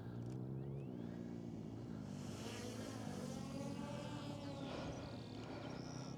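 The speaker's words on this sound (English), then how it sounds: "I think those motorbikes are coming back." Motorbikes pass along a road, a continuous engine drone with rising and falling pitch sweeps as they go by, moderately distant and steady throughout.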